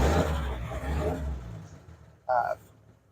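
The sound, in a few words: 1963 Ford F-100 truck engine idling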